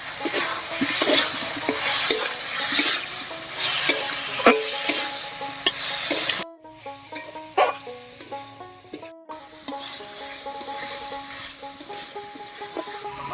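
Squash is stirred into a fried spice paste in a pan, with a sizzle in hot oil and repeated scraping strokes of a spoon. Partway through, the sound briefly drops and turns thinner before the stirring and frying return.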